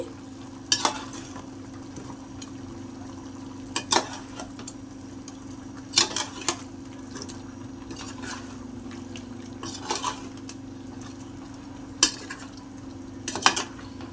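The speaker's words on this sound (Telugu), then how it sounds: "కొద్దిగా గరం మసాలా ఇంట్లో తయారు చేసుకున్న గరం మసాలా వేసుకొని ఒకసారి బాగా కలుపుకోవాలి" Homemade garam masala being stirred into a pan of farm chicken fry, with a low steady sizzle under sharp, intermittent clinks of a spoon scraping the pan every couple of seconds.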